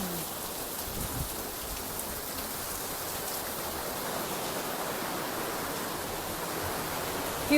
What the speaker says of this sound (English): Just enjoying the rain.